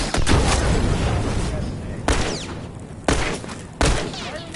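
Gunfire and a grenade blast in The Last of Us during a fight with hunters: loud sharp repeated shots, then heavy booming hits spaced about a second apart, with game voices calling out around them.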